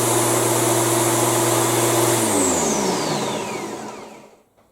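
Hyundai garden power kit petrol engine running after a pull start, a loud steady drone that drops in pitch and fades out as it winds down over the last two seconds.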